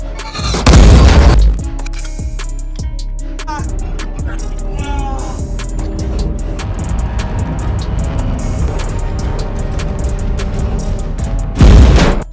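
Heavy booms and blasts from World War II tanks firing at each other in a film battle, a loud explosion at the start and another near the end with rumbling, crackling combat noise between.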